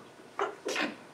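A single person sneezes in a classroom, a short two-part burst with a sharp intake and louder release, fairly close against a quiet room with no talk.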